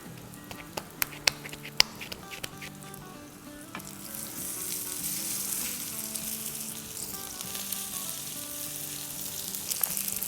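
Thin kebab-style patties fry in a pan with a steady sizzle that swells and thickens after the first few seconds. A few crisp clicks come early on, and no one talks.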